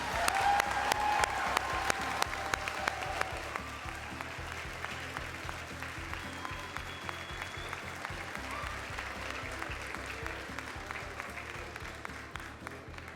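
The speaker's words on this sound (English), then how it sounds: "Let's have another big round of applause for all of our film graduates." An audience at a graduation ceremony claps for film graduates. The applause is dense and sustained and comes from a moderately distant crowd, loudest at the start and gently thinning over the clip.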